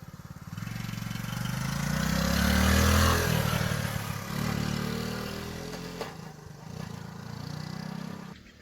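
A mini bike engine buzzes and revs nearby as a novice rider goes along, the pitch climbing and dropping with throttle changes amid some mechanical clatter.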